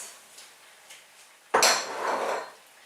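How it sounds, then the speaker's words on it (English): Chickpeas tipped into a pot of boiling sweet potato kale curry, a sudden loud splashing clatter that rattles and hisses for about a second before fading back to a low simmer. "then I'm going to add all of the chickpeas"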